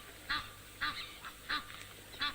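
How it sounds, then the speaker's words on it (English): Egyptian geese honking out on the African savanna, four loud, harsh calls spaced roughly evenly with short gaps, set over a faint, steady background hum. "Egyptian geese are still shouting at him."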